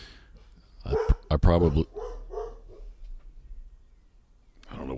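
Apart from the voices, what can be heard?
dog (retriever) barking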